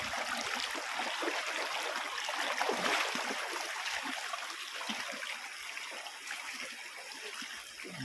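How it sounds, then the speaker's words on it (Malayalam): A small sandy-bedded river flows inside Elival forest in Kerala while someone wades across, a soft continuous rush of water with faint trickles and gentle splashes, fairly quiet overall. "പതുക്കെ പുഴ ഞാനിങ്ങനെ മുറിച്ച് കടക്കാനുള്ള പ്ലാനിലാണ്"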